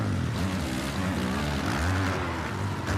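Motocross bike engine in the MX vs ATV Legends racing game, a loud, steady buzzing drone with rising and falling pitch as the throttle is tapped, continuous for the whole stretch with no talk.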